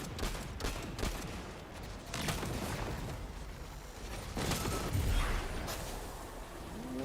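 Gunfire from Vex enemies in Destiny: The Edge of Fate, a burst of rapid sci-fi weapon shots crackling over continuous game noise, loud and close, with impacts and a few sharper blasts scattered through the stretch.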